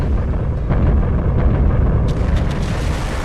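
Naval gunfire and explosions in a game battle between the battleships Yamato and Musashi, heavy rumbling booms rolling continuously with a few sharper bursts near the end.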